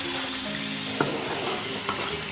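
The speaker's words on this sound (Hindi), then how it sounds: "मैं फ्राई करती रहूँगी तो आपको जब तक फ्राई करना है इसको अच्छे से ऑयल में" Mutton fries in hot oil in a pan, giving a steady close sizzle broken by a couple of soft utensil taps.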